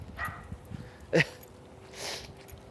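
A dog out on a walk gives a single short, fairly loud yelp or bark in the middle, with faint outdoor background before and after.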